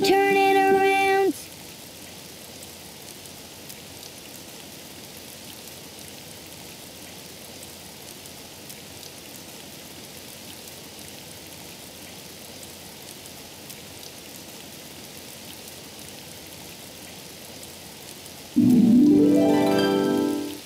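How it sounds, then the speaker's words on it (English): Soft, steady patter of rain in an animated children's show continues evenly, framed by brief bursts of tonal music at the start and end. "Oh, it's raining outside."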